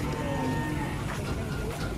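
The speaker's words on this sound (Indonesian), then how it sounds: "kedatangan sapi PO putih" Giant white PO cattle moo loudly while being unloaded from a truck, a steady close bovine call over continuous farmyard noise.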